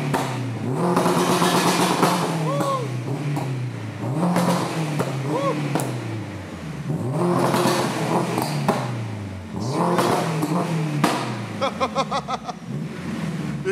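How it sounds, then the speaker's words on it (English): A turbocharged Honda Integra with a titanium exhaust revs hard several times close by, pitch climbing and falling in loud bursts, ending in a quick series of crackling pops. "That is a nice sounding exhaust."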